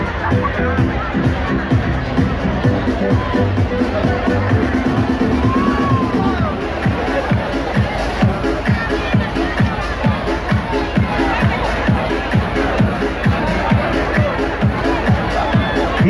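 Dense chatter of a large crowd filling a town square in Arconate at an evening event, steady babble of many voices with occasional whoops and a rhythmic thumping beat underneath.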